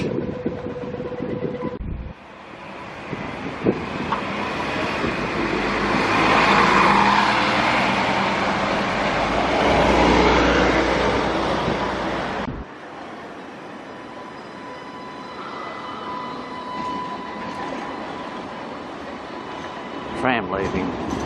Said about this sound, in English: Tram leaving Chalmers Street Central Station, heading towards Randwick